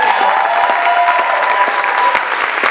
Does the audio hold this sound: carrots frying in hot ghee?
no